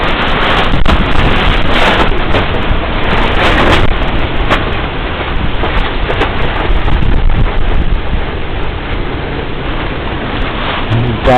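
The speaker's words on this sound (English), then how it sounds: "Bad wind." Strong wind sweeping across a lake during a windstorm, a loud, continuous rushing roar that buffets the microphone in gusts, with water surging beneath it and no voices.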